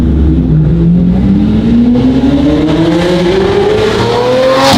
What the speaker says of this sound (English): That is the sweet sound of the Murcielago V12